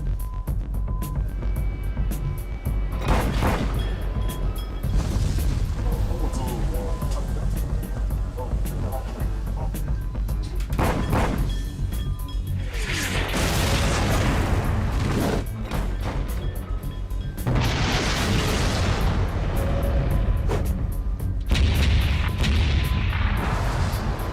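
Repeated heavy booms and blasts echo over a steady rumble of wind or engines, with a few sharp bursts standing out loudly against the background, as naval gunfire strikes the destroyer HMCS Huron during a 2007 sinking exercise.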